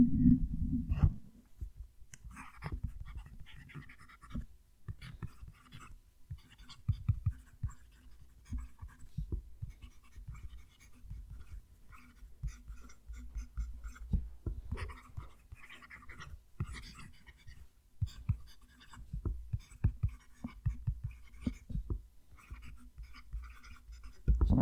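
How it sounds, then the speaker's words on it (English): Faint, close scratching of a handmade Australian fountain pen nib moving across paper, with soft continuous strokes and small ticks over about twenty-five seconds and no talking. "I'll have the mic down near the page so you can hear the pen writing"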